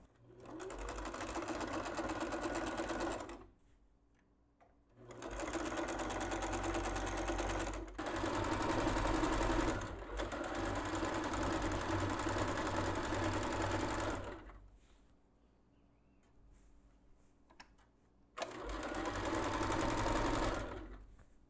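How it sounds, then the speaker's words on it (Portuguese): A sewing machine stitches pompom trim around the edge of a beach towel in several bursts, each a steady close whir lasting a few seconds, separated by short quiet pauses. "eu vou começar costurando com vocês"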